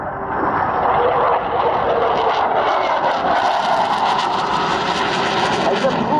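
Military jet performing a flying display at the RIAT 2014 air show, its loud engine roar steady and close throughout, with a commentator's voice over the top.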